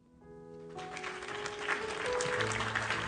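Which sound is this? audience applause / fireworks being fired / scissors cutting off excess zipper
audience applause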